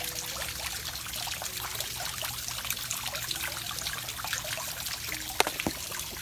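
Water flowing steadily in a small garden pond where it runs under a bridge, a continuous close trickling and pouring with one brief knock near the end and no voices.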